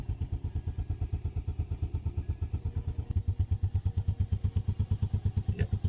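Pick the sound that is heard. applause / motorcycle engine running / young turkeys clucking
motorcycle engine running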